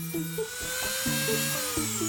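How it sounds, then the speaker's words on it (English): A power sander whines in short, repeated bursts while shaping an airsoft riot shield, its motor pitch climbing and dropping with each pass, close and fairly loud, with no voices. "Whoa, look at that sanding!"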